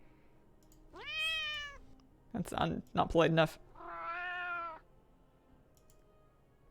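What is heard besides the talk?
cat meow sound effect, tried as panther sound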